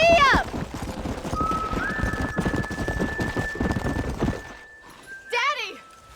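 Horse hooves clip-clopping at a quick gallop in the Red Dead Redemption video game, a steady rhythmic thudding under a sustained music tone, with voices and a sharp horse whinny at the start and again near the end.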